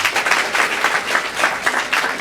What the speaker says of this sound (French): Je voulais que vous applaudissiez pour lui